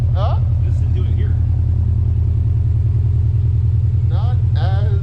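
A 2021 Subaru WRX STI fitted with an Invidia R400 Gemini aftermarket exhaust idles with a deep, steady, pulsing rumble close by, while people talk briefly over it at the start and end.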